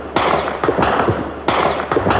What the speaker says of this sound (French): Les premiers coups de feu retentissent, branle-bas de combat.